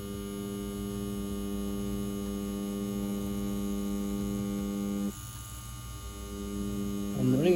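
A CNC WE Plus wireless tattoo machine running at 7.5 volts with a 4mm wheel gives a steady, even electric buzz with a strong hum, which shifts in tone around five seconds, then briefly rises near the end.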